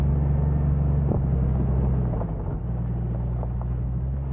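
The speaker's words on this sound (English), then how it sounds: "We're on a little bit of a hill, you can probably tell by the engine sound." A car engine strains up a hill in a steady, loud low rumble that dips slightly partway through, with no talking.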